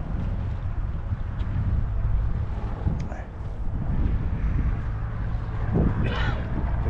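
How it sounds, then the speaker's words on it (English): Breezy gusts rush over the Susquehanna River at Sunbury, Pennsylvania, a steady low roar of wind buffeting the microphone throughout, swelling slightly in the middle and near the end. "Breezy."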